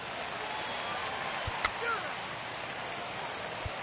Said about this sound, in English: the conditions aren't ideal with the rain coming down